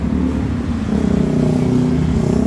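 A motorized tricycle's engine runs steadily up close, a continuous low rumble with a slight rise in revs partway through and no talking.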